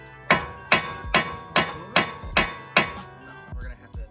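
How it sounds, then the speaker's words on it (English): Hammer blows drive a wheel stud out of a 2018 10th-generation Honda Civic Si hub, giving seven sharp, evenly spaced metallic strikes with ringing decay. Smaller, softer knocks follow near the end. "You just take a hammer and hammer the crap out of it till it comes out"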